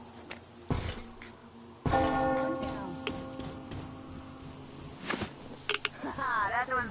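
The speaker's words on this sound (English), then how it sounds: "Do you hear that bell?" A church bell rings in the video game Metro Exodus, with sustained resonant tones decaying after a strike, under game noises and a voice speaking.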